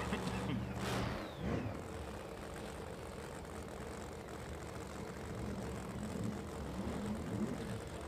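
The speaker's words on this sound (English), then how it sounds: "So Mark Mickey answers back the revs with some revs of his own here." Drag racing car engines rev at a US Street Nationals event at Bradenton, with a loud rising burst near the start and then a steady roar of revs further off. A commentator talks over it.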